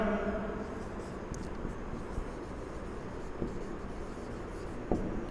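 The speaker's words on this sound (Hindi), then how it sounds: "तो यहाँ पे हम लिखेंगे" Chalk or marker writing on a board during an applied physics lecture on current electricity, a steady scratchy scraping with a few brief taps, close and moderately loud against a room hum, no talking.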